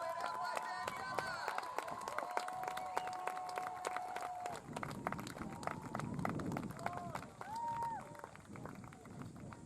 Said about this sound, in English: And a very warm round of applause for the Australian men led out by Daniela.